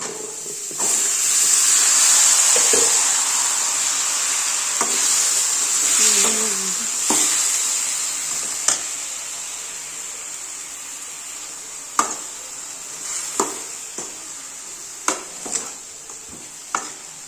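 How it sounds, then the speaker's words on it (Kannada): Legumes tempered in hot oil in a pan give a loud, hissing sizzle that starts strong and slowly fades, followed by scattered sharp clinks and stirring knocks. "ಇವಾಗಿದ್ದು ಕಾಳು ಒಗ್ಗರಣೆ ಕೊಟ್ಬಿಡೋಣ"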